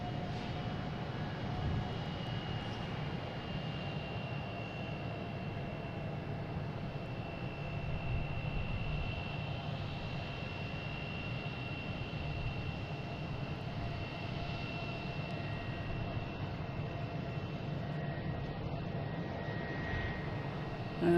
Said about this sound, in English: I got JetBlue flight 1017 taking off on 22 right, heading to JFK